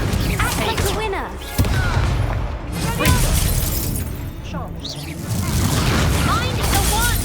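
Spell blasts from Confringo and Incendio in Hogwarts Legacy crash and burst repeatedly in a loud, chaotic battle, with shattering impacts and booms arriving one after another while the player shouts over them.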